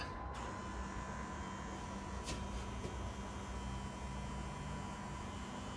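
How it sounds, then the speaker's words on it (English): The fuel pump of a Jaguar XJS runs after the key is turned, a steady electric whine and hum holding constant throughout, blended with background noise. "Listen for the fuel pump."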